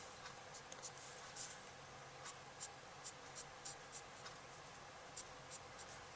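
Copic alcohol marker, shade V06, scratching across card stock while coloring two-toned hair on a Halloween card, soft repeated light strokes in a steady rhythm over a quiet background hiss.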